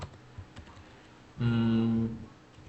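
Fingers typing Python code on a computer keyboard, faint scattered clicks in a quiet room, with a short louder humming tone partway through.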